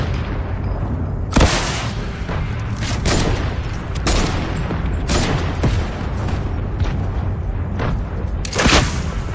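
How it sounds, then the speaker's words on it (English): Fortress explosions in the Fortnite battle royale game come as a string of loud, sharp booming blasts, about five of them spread irregularly over steady background game noise. "Fortress explosion."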